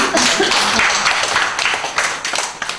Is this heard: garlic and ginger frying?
no